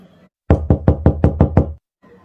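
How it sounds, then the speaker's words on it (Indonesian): Seven sharp, evenly spaced knocks on a house door ring out loud and close in a quick steady run, with quiet room tone before and after. "Ada yang ngetok pintu rumahku nih."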